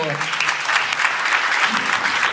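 Audience applauding at the inauguration of a parish oratory kitchen, a steady dense burst of many hands clapping close by, with a voice briefly audible at the start.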